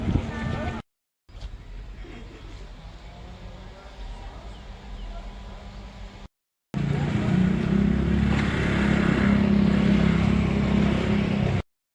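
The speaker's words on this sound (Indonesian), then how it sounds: "Ini mobil siapa suara nih?" A car engine runs with a steady low hum and drone, loud and close, briefly cut out twice, with people talking over it.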